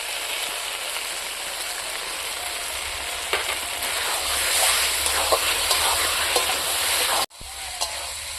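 Jali kumro pumpkin frying with spices in a pan as mustard paste is stirred in, giving a steady, close, hissing sizzle with scraping stirring strokes that cuts out briefly near the end.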